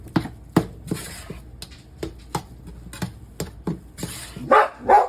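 Maximus the dog barks repeatedly in a kitchen, sharp loud barks spaced in an uneven rhythm, closing with a couple of higher, whinier yelps, with no talk over them.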